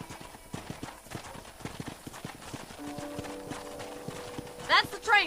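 Steady clip-clop of horse hooves at a walking pace in the video game Red Dead Redemption, with faint background voices and a brief whinny near the end.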